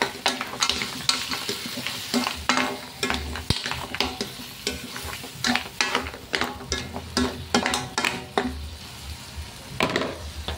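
Shrimp, mussels, squid and corn are stirred in butter in a pan, making a continuous sizzle broken by frequent rhythmic scrapes and clacks of the utensil against the pan.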